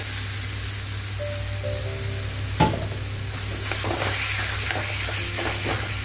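Chicken mince frying and being stirred in a pan for an egg devil recipe, a steady close sizzle with scraping spoon strokes and one sharp knock partway through.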